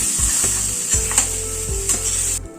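Eggplant pieces frying in hot oil in a wok, a steady sizzle with the clack and scrape of a spatula stirring and lifting the pieces at irregular intervals, close up.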